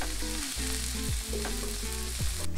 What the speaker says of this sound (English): Make sure you hear that sizzle.